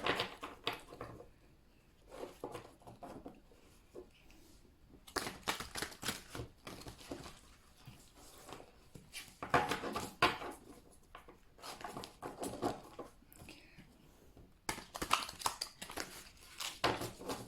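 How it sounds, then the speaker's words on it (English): Angel oracle cards shuffled by hand during a pick-a-card reading, giving bursts of dry papery riffling and tapping with short pauses between them, close and moderately loud. "Let's give them a shuffle."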